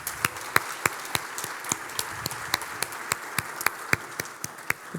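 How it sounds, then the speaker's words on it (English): Sparse, sharp claps ring out at a steady pace over a low background hum, sounding like a small group applauding rather than a big crowd. "help me give a big round of applause"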